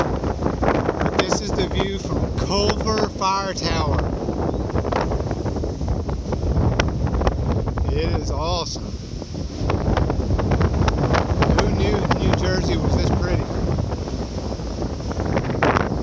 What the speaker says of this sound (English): Man, it is windy up here.